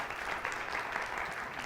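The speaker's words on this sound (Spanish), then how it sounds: "un aplauso a los hombres" A church congregation applauds its men in a steady, faint patter of many hands clapping, continuous throughout with no voices over it.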